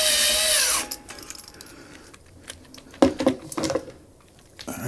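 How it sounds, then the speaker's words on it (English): A power drill whirs loudly for about a second and stops while cleaning a ceiling fan light fixture, followed by scattered knocks and clatter of handling a tool nearby. "It tells you what direction you're drilling, so you're not wasting your time pulling the trigger."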